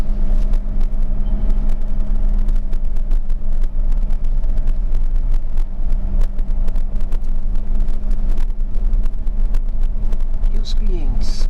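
Jeep Renegade 4x4 crawling off-road over a rock formation in low gear: a steady low engine drone and rumble with frequent clunks and knocks from the terrain, heard under ongoing talk from people inside.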